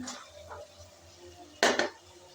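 Taro stolons dropped into a pan of shrimp being cooked, heard as a quiet low simmer with a faint clink, then one sharp loud clatter of metal on the pan.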